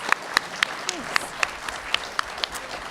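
Scattered applause from a convention audience at a voice actors panel, a handful of separate claps spaced across the moment, fairly light and somewhat distant, with no talking over them.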